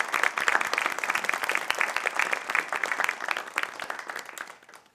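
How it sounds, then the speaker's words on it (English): Congregation applause at a Sunday service, a dense patter of many people clapping together, lively and close, holding steady before tapering off quickly at the end. "Let's thank them for their dedication with a round of applause."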